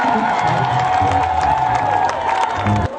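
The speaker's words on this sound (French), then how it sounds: "Sous vos applaudissements, s'il vous plaît." A large crowd at a political rally in Gabon applauds and cheers, loud sustained clapping mixed with shouts and whoops, with music or a voice underneath, cutting off abruptly at the end.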